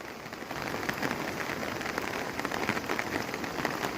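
Steady heavy rain patters on a surface in Phou Koud, Xieng Khouang, a continuous even hiss of drops with no voices or other sounds.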